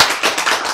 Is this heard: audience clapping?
yes